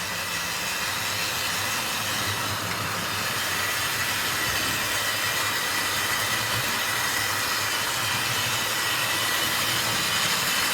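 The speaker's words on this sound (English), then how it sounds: "watching the Sir Nigel Gresley going around the downward main line a few more circuits" Wrenn model locomotive Sir Nigel Gresley circling a Tri-ang model railway layout, a steady rolling whir and hiss from the wheels on track, constant and fairly close with no voices.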